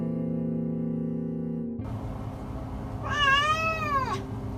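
A cat meows clearly near the end, a drawn-out rising and falling call rescued from a wildfire area, heard over background noise after a steady tonal hum.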